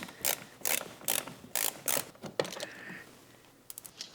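A ratchet works a T25 screw out from beneath the front lip spoiler of a Porsche 991 911, giving several sharp bursts of rapid clicking strokes with short pauses between them, close up and heard alone.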